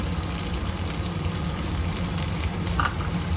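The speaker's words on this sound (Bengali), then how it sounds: "এটা ভালো করে আমি ভেজে নেব" Green chillies, char magaj melon seeds, almonds, cashews and nuts frying in hot oil in a pan, a close, continuous crackling sizzle with no break.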